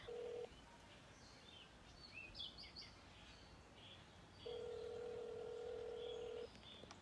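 Phone ringback tone on a call to a Burger King restaurant, two long steady electronic rings, the first cut short at the start and the second lasting about two seconds, quiet with faint background noise between them.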